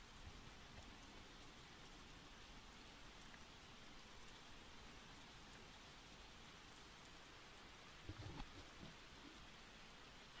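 A steady wash of rain patters softly and evenly, a faint continuous hiss of drops with a few brief small knocks near the end.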